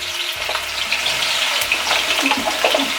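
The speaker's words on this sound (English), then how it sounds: "put it into the hot oil. Ooh, look at that nice sizzle. Listen to that." Steady, crackling sizzle of potato frying in hot oil, close and continuous with small pops throughout.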